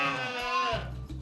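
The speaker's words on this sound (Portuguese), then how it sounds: "Aqui são criadas 3 raças de ovelhas e carneiros: Dorper, White Dorper e Santa Inês." A sheep on a rural farm near Brasília, where Dorper, White Dorper and Santa Inês breeds are raised, gives one drawn-out wavering bleat close by, fading into low farm background noise.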